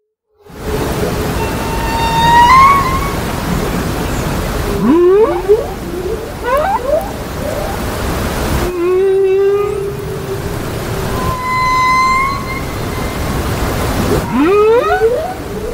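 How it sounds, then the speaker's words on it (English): Humpback whales vocalize underwater as captured by hydrophones, with long moaning calls, rising whoops and upsweeping cries repeating over a constant low rumble of ocean noise. "And here are the underwater vocalizations of humpback whales."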